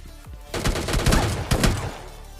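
MK14 rifle fire in the PUBG battle royale game: a rapid burst of sharp, loud reports in quick succession, a few seconds of close gunfire with no talking.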